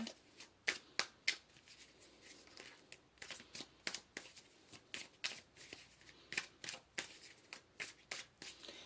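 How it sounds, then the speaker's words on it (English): Tarot cards being shuffled and pulled, a quick run of crisp riffling bursts and snaps repeating steadily and close, with no talk over them. "Let's pull some more cards here."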